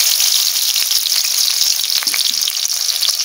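Shrimp frying in a wok, a loud, continuous, close hissing sizzle with light crackles throughout and no voices.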